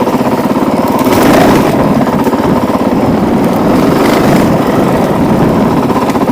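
A Honda CRF450L, a high-horsepower 450 dirt bike, drones loudly and close while ridden gently around corners, its engine note rising and falling slightly at low throttle.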